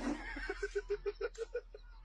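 A horse whinnies in a quick run of about nine rhythmic, pulsing calls rising and falling, fairly close and clear, with no talk over it.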